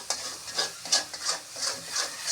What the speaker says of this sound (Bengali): হলুদের গুঁড়িটা দিয়ে আবার সুন্দর করে নাড়তে থাকবে